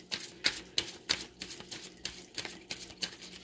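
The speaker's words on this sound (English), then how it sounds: "One more shuffle." Cards riffle and snap in quick bursts, a series of crisp, close clicking flutters at an uneven rhythm.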